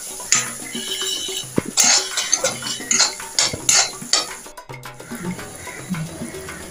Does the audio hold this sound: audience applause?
no